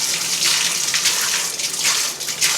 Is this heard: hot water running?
yes